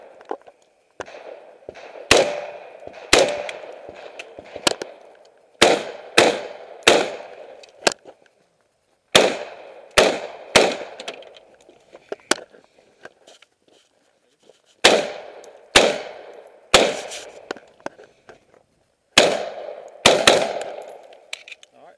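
Sharp rifle shots from a new Troy rifle ring out at a shooting session, fired in quick clusters of two to four cracks with short pauses between strings, loud and close.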